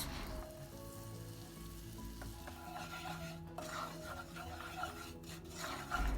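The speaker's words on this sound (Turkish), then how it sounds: "Üzerine 2 yemek kaşığı unu ilave ediyoruz ve un kokusu gidene kadar karıştırarak kavuruyoruz" Two tablespoons of flour roasted in melted butter in a pan, stirred constantly, give a steady close sizzle with scraping and rubbing strokes throughout, and no talking.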